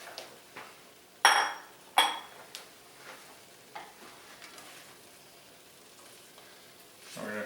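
Cooked linguine tossed into a sizzling pan with pulled pork, two sharp clatters of utensils on the pan over a faint continuous sizzle, then quieter scraping and stirring close by.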